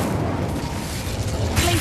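Incendio fire spell cast in the Hogwarts Legacy video game, a steady close roaring whoosh of flame that runs for about two seconds and swells slightly near the end.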